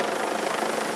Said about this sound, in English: even helicopters are being used to transport COVID-19 patients that are critically ill